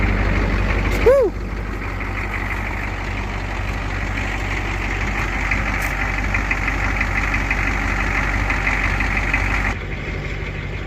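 A cold 1986 Ford F-350 dually diesel truck idling, a steady close rumbling clatter with a brief higher whistle near the start, running continuously for about eleven seconds.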